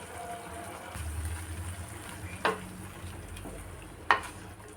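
Ground coconut is added to frying shallots and stirred in a pan for ash gourd curd pachadi, a soft low sizzle with two sharp scraping stirs of the spoon against the pan.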